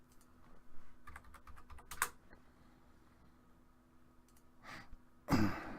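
Computer clicks and keystrokes come while stepping through dialogue keywords in Shroud of the Avatar: close, crisp taps in short clusters with quiet gaps, ending in a louder burst.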